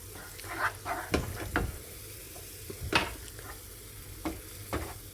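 Cold milk goes into a pan of sizzling peppers on the stove. A soft frying hiss carries short bursts of stirring and scraping, close and moderately loud, with no talking.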